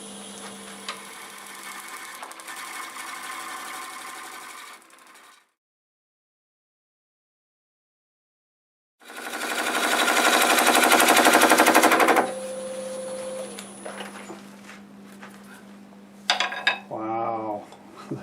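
A bowl gouge cuts an end-grain juniper bowl on a wood lathe, giving a harsh, rapid chattering rasp in two long bursts separated by a silent gap, followed by a steadier motor whir with a brief squeak at the end.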